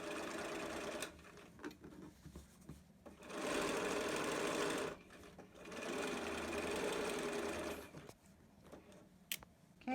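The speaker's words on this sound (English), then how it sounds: "we're continuing on sewing around, coming to this last seam" A sewing machine stitches a zipper pouch seam in two sustained, even runs of rapid mechanical chatter separated by brief pauses and light clicks, close and clear with no talking.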